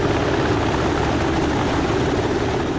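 A UH-60L Black Hawk helicopter in the DCS flight simulator, a loud, continuous rotor and turbine drone with steady low thrumming and no voices.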